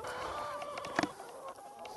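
A hen clucks briefly once or twice, faint against steady outdoor background noise on a small agroforestry farm.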